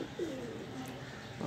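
Flying pigeons of a high-flying breed cooing, a soft low throaty coo that swells then trails off, faint and close, repeated briefly near the end over quiet background.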